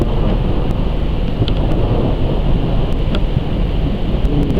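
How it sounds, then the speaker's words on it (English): Thunder from a lightning storm over Plymouth Harbor, a steady low rumble under strong wind buffeting the microphone, with a few faint sharp crackles, continuous and fairly loud throughout. "the lightning still flashing all around us"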